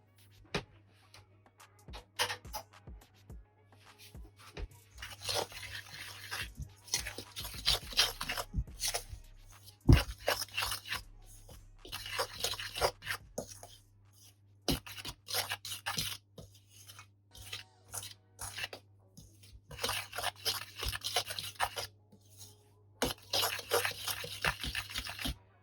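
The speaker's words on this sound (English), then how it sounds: "Now we're going to give that a nice mix and incorporate all the seasonings and the coconut into our flour" Seasonings and shredded coconut being mixed into flour in a bowl, heard as soft, close, intermittent scraping and rubbing strokes with quiet gaps between bursts.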